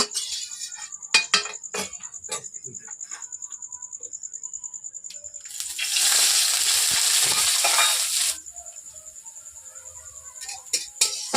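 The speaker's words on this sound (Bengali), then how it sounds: "আমি পেঁয়াজগুলো প্রথমে ভেজে নিচ্ছি" Onions for chicken biryani sizzle and fry in hot oil, with a louder burst of crackling in the middle and a few utensil clinks and stirs around it.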